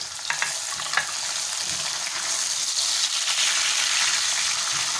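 Two medium tomatoes dropped into a pan with frying cabbage, a steady close sizzle with a couple of sharp stirring clicks early on, the hiss swelling a little louder toward the end, no voices.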